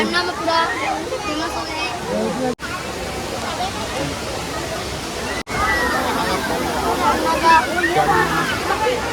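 A waterfall at the ancient Narsinghnath temple in Odisha gives a dense, constant rushing roar close by, with people chattering and calling over it throughout.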